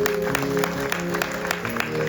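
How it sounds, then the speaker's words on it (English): A congregation claps at a Ganesh Chaturthi religious gathering, irregular hand claps close by over a sustained low musical drone, with no talking. "Clap for him"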